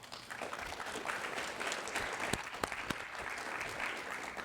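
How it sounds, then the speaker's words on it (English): An audience at an evening speaker series on the Second Amendment claps steadily in a hall, a moderate, even spread of applause with a few sharper individual claps standing out. "thank the rest of you for your lovely applause"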